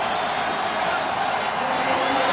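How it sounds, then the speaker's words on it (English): A large stadium crowd in Columbus roars continuously after the USA beats Mexico in a soccer match, a dense, steady wash of cheering with no breaks. "listen to the crowd in Columbus"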